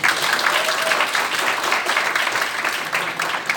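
A packed audience at a conservative group's gathering in a National Assembly hall in Yeouido gives loud, dense applause, many hands clapping in a continuous, even roar that holds steady throughout.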